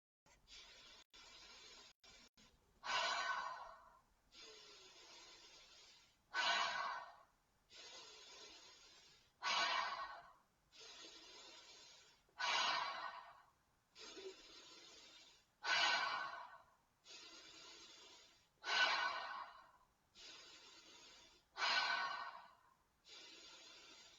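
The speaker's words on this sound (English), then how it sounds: "breathe it all the way in" Slow, deep breathing during a beginner's breathing exercise, with about ten long, soft inhales and exhales in a steady rhythm, close and quiet.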